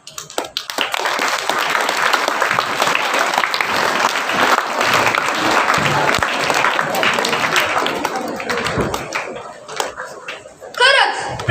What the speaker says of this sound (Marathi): चला आमच्या सर्व स्पर्धकांना टाळ्यांचा कडकडाट